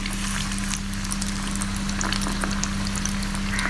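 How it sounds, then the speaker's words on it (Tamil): Fish pieces frying in hot oil for Kotthangudi-style fried fish, a steady, loud, close sizzle and bubbling that runs unbroken throughout with no talking. "மீன் பொரியும் போது. ரொம்ப கரு விட்டக்கூடாது."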